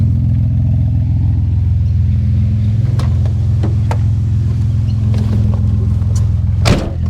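A Nissan Skyline R33, a slammed budget-build project car, drives with a loud, steady low engine drone heard from inside the cabin, with occasional faint clicks and rattles over it.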